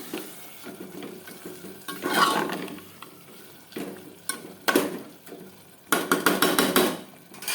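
Mutton frying in a pan as it is stirred, with scraping strokes and clattering spoon taps against the pan over a soft sizzle, arriving in close, uneven bursts.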